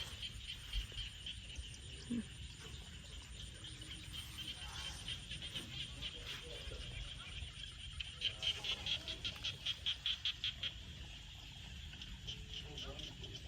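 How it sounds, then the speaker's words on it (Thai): Faint outdoor night chorus of croaking frogs with a steady insect-like hum, a run of rapid pulsed calls near the end, and soft distant voices. "พามาฟังเสียงกบเสียงเขียดเนาะ"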